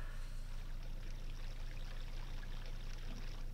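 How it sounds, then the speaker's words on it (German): A river flows steadily in the video game The Legend of Zelda: Majora's Mask, a constant rushing water stream over a rhythmic low mechanical pulse, with no one talking. "Und hier fließt auch wieder ein Fluss."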